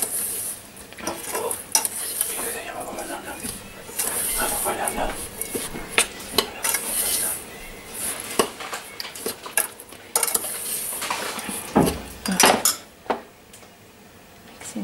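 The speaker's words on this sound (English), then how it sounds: "So I'm just mixing in all this." Egg being mixed into a batter in a bowl, a utensil scraping and clinking against the bowl in steady stirring strokes with a few louder knocks near the end, close and alone without talk.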